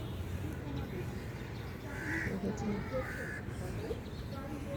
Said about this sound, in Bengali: কুয়াশার মধ্যে দেখেন পাখিগুলো কি সুন্দর আনন্দ করছে